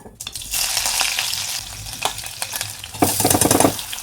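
Upma (upit) being stirred in a pan, scraping strokes over a steady sizzle, close, with a louder burst of stirring near the end.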